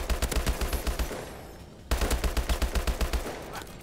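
HBR rifle firing in Call of Duty Advanced Warfare: rapid, loud automatic bursts with a steady rhythm, a brief pause near the middle, then another sustained burst, no talk.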